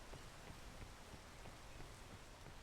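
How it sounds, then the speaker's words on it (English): Steady rain in a Roblox game, a soft continuous hiss with small scattered drop ticks, faint and even throughout with no voices. "Oh, rain. It's raining."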